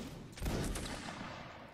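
Reenactors in a Napoleonic line battle fire a musket volley, a single ragged burst of overlapping shots at moderate distance that rings out briefly and fades.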